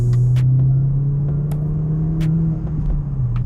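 A Ford Fiesta ST Mk7 with a 260 bhp Stage 2 tune drones loudly and steadily from close by after a downshift on a country B-road, its engine note holding a low, sustained rumble that climbs slowly in pitch.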